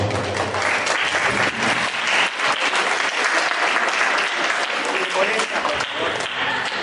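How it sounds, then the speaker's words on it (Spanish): Sustained applause from an audience, steady clapping filling the room for several seconds with a few voices mixed in. "Nos visita el rabino Sergio Berman, para el que pido un aplauso."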